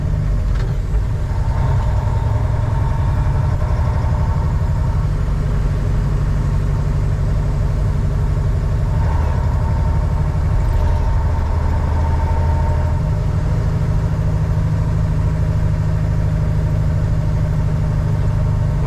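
Heavy 2001 Western Star 4964EX truck engine rumbling at a steady idle, a loud continuous low drone close by with slight shifts in tone partway through, no voices.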